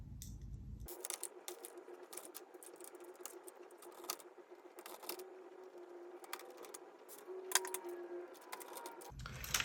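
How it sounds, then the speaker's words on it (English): Small metal screws being fitted and driven into a Pioneer DDJ-SZ DJ controller during repair, a run of close, faint clicks, taps and scrapes spread irregularly across the clip with no talking. "So I'm just going to put those screws in."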